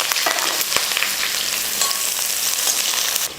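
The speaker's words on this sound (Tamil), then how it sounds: "எண்ணெய் காஞ்சதுமே ஒரு பெரிய வெங்காயமும் 2 பச்சை மிளகாயும் சேர்த்துக்கலாம்" Chopped onion and green chillies spit and crackle in hot oil in a pan for an egg dish, a dense steady sizzle with a few sharp pops, close and loud with no talking.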